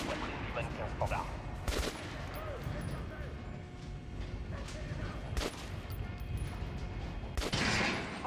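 Shots are fired at an armored mannequin in Metro Last Light: three sharp, loud reports spaced a few seconds apart, standing out over a busy game-audio background.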